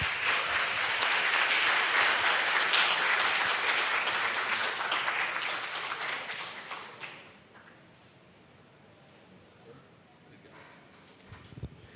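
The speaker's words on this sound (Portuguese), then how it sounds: "Palmas para a gente" Dense audience applause fills an event hall for about seven seconds, loud and sustained, then fades away into quiet room tone with a few scattered claps near the end.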